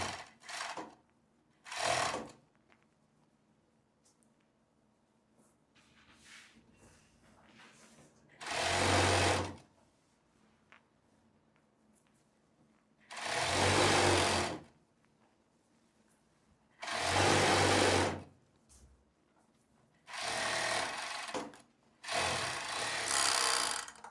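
A sewing machine runs in several bursts of a few seconds each as it stitches the waistband of a long casual skirt, loud and close, with quiet handling noise and pauses between runs.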